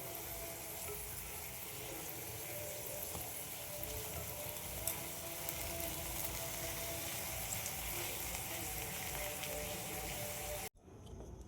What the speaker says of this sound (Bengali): আলু পকোড়াগুলো ভাজা হয়ে গেছে